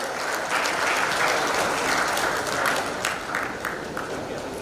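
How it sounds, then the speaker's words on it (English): An audience at a panel discussion applauds in steady, dense clapping that holds for several seconds and tapers slightly at the end, with no talk over it. "Come on everyone, give a huge round of applause."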